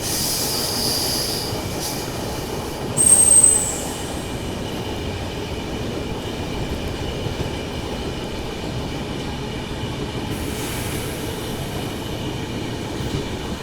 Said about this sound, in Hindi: आपको एक आवाज़ की आ रही होगी ट्रैक की।